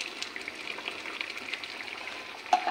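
Ghee crackles and sizzles steadily in a pan of moong dal shukto made with raw moong dal and bitter gourd. The fine, continuous frying hiss is soft and close, with a slightly louder pop near the end and no talking.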